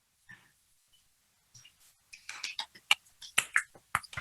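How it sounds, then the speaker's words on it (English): A small online session audience gives sparse, scattered polite claps after a quiet pause, light individual hand claps close together rather than a full round, with no talking. "Such polite clapping there."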